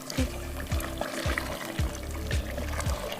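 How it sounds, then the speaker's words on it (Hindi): A cup of cooking oil poured into a pot for saag gosht, a steady glugging pour with rhythmic gurgles, close and moderately loud, without talk. "1 कप तेल डाल।"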